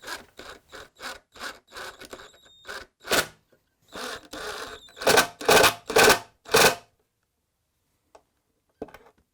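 Screws being driven into the pocket holes of a wooden kit chair, pulling the seat into the back rail: a run of short rhythmic bursts, close and fairly loud, then a pause and a few faint ticks.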